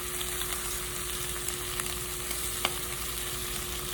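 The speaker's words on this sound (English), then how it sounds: "I'm going to cook up 3 pieces of this turkey bacon. I am going to put about a teaspoon of butter in here." Three pieces of turkey bacon frying in about a teaspoon of butter in a pan, a dense, steady sizzle with faint pops throughout.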